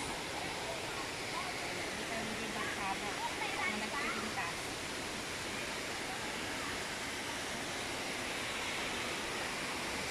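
Chunwan Falls sends out a steady, broad rush of falling water that holds for the whole stretch, with faint voices now and then beneath it.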